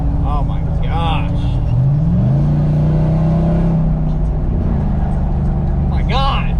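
Engine of a lifted pickup truck driving, a steady low rumble with a rising rev near the middle, heard from inside the cab while people talk over it.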